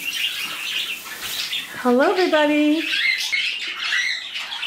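Pet birds in a home bird room with flight cages, including a rosy Bourke parakeet, chirp and let out a loud warbling squawk midway, with steady chattering throughout as a woman greets viewers.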